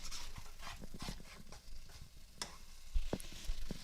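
A pound of turkey sausage sizzles steadily in a pan while a chopping tool scrapes and taps through the meat, giving irregular clicks and scrapes over the continuous frying hiss.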